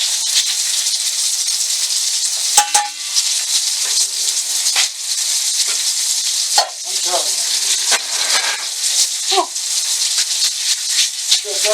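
Potatoes fry in hot grease in a home kitchen, a loud steady sizzle and hiss throughout with occasional stirring clicks and scrapes, and voices talk over it.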